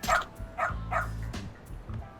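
A dog in the video game Lost Judgment barks in short, close, repeated yips and bow-wows, several in a row, with a faint whimpering quality and a low game hum underneath.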